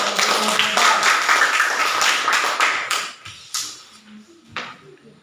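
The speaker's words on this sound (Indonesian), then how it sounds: "Tepuk tangan untuk semua." An audience applauding presenters at the close of a talk, a burst of brisk, fairly close clapping that thins out after a few seconds into a handful of scattered, separate claps.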